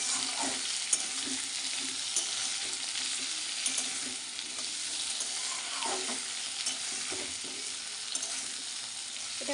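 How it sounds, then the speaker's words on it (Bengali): Vegetables for a hilsa fish-head chorchori fry in a pan with a steady, loud sizzle that fills the whole stretch, broken by occasional soft scrapes and clicks of stirring; no voices. "চলো সবজিটা একটু ভাজতে থাকো, ভাজা হোক।"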